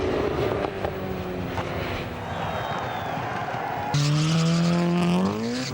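A Honda Integra racing a Subaru WRX on a track: engines drone at speed, then a louder, closer engine note surges and climbs in pitch as one car accelerates past.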